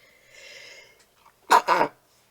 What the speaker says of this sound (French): Pardon, je vais éternuer.